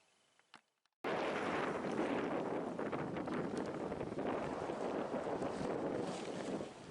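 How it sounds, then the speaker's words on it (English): A small sailboat under sail in wind off Indonesia's islands, a faint tap or two before strong wind suddenly buffets the microphone as a loud, continuous rushing roar that carries on steadily to the end. "Beautiful day, and I'm doing some good sailing now."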